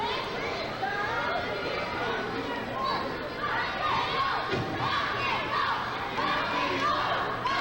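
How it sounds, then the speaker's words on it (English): A dense crowd at an indie wrestling show in Bainbridge chants and shouts steadily, with children's yells mixed into the mass of voices and an announcer talking over it. "The crowd here in Bainbridge beginning to chant rock and roll."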